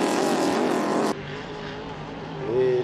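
Hydroplane race boat engine at a Valleyfield heat roars past loudly, then drops abruptly to a distant, lower drone with a rising whine near the end.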